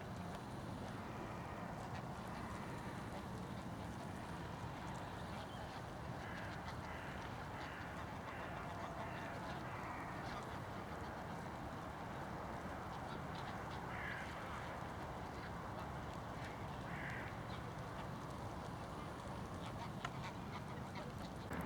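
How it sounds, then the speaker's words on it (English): A noisy flock of Brent geese feeding in a field outdoors, their dense overlapping honks and calls forming a steady distant chorus over broadband ambient noise, with no clear single calls standing out. "Flock of Brent, I believe, geese. Very noisy."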